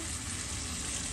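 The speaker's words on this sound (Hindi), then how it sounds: "भिंडी में पानी पड़ गया है" Okra frying in a pan sizzles with a steady, dense hiss right after a little water is added, loud and continuous with no pauses.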